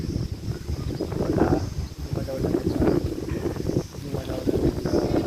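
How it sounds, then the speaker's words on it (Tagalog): Strong wind buffeting the microphone on a fishing boat at sea off Abu Dhabi, a continuous loud gusty roar with rumbling low noise and voices faintly beneath. "Lakas ng hangin"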